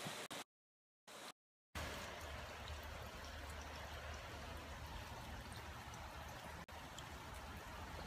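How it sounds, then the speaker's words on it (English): Steady rain comes down outside, a dense even hiss of falling drops that continues unbroken after a couple of brief silent dropouts near the start. "Got to check this out with the rain."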